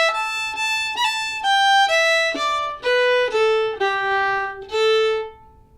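A solo fiddle plays a phrase of the Irish tune The Lilting Banshee, with slurred notes and quick flicks, a clear, close run of bowed notes stepping down in pitch.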